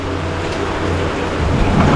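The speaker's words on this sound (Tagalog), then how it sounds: "Ang lakas ng ulan mga kamay, oh." Heavy rain pours down in a steady, loud, broadband hiss that fills the space and swells slightly toward the end, with no voices over it.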